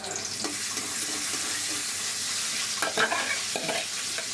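Crushed garlic sizzles in hot oil with leafy greens, a steady close frying hiss broken by a few sharper stirring scrapes and clinks toward the end, with no voices.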